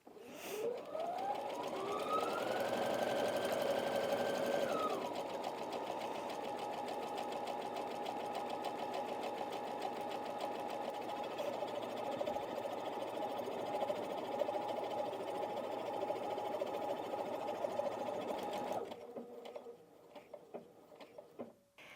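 A Brother Innov-is NV1800Q sewing machine stitches a dense buttonhole, a steady close mechanical whir with rapid needle patter that changes pitch as the speed drops partway, then stops near the end.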